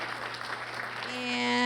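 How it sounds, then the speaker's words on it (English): Short burst of audience applause at a college employee recognition and year-end celebration, moderate clapping from a gathered crowd with a voice speaking over it. "let's give a round of applause for Nick Shear, who's not here."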